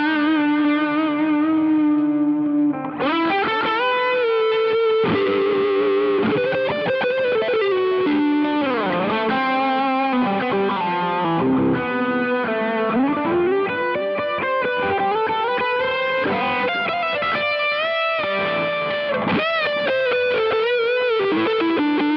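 Electric guitar played through a ToneConcepts GOO distortion pedal with a fair amount of gain, sounding loud and sustained with continuous distorted chords and notes, on its own without talking.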